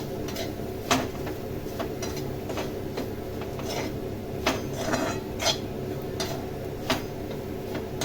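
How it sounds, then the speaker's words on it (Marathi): Bitter gourd sautéing with garlic and coconut in a pan, a low steady sizzle under sporadic sharp clicks of a spatula against the metal, close and moderately loud. "आता आपल्याला हे छान परतून घ्यायचे व्यवस्थित"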